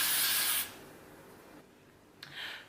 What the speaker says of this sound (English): So now I'm gonna put a little bit more hairspray on.